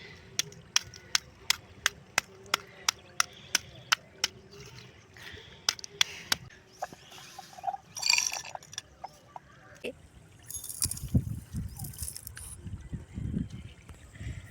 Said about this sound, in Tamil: இப்போ நம்ம அந்த கறிக்கட்டையை சின்ன சின்னதாக நொறுக்கி எடுத்துக்கலாம்.